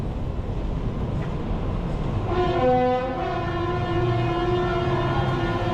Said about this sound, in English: The train is passing on top.